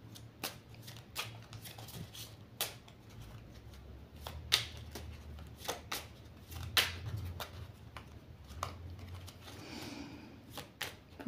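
A deck of oracle cards being shuffled by hand, with a long run of crisp riffling snaps and flicks in an uneven rhythm, close and fairly quiet, with no talking.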